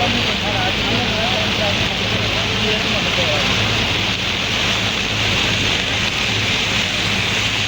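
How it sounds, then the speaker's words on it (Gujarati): Heavy rain pours down in a dense, unbroken roar that stays loud and even throughout, with voices faintly mixed underneath. "વરસાદ ગમે જબરજસ્ત"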